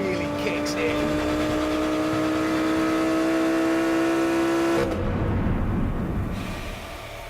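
A Lamborghini Huracan's 5.2-litre V10, reworked from the Gallardo's, revs up in a rising, harmonic-rich wail held loud and close, then drops away into a rougher roar; no voices.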